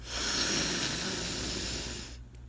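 A slow, deep inhale through the nose during a calming breathing exercise, a steady close breathy hiss that holds for about two seconds and then fades out.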